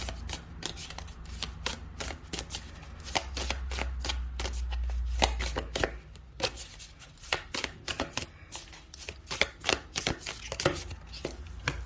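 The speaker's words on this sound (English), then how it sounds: "I'm going to pull one more card." Tarot cards shuffled and drawn from a deck in a quiet room, giving dense rapid riffling bursts followed by a run of separate crisp card snaps and slaps, close and fairly loud, with no talking.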